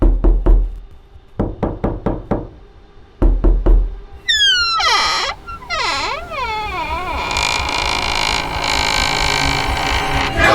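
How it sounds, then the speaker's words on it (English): A loud, close knock on a door comes in three quick bursts of raps. Then whistling, swooping electronic tones and a busy, dense sound bed take over. "then you hear a knock at the door"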